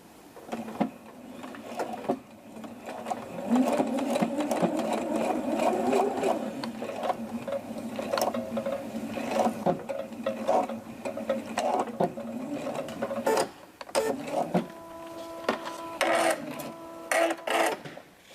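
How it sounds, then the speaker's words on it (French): A sewing machine runs a seam along the fold line of a bottom hem allowance, its motor whirring steadily in bursts with brief pauses and stops, close and fairly loud with no talking. "on va venir réaliser ici une couture au niveau du surplus, le long de la ligne de pliure de l'ourlet du bas"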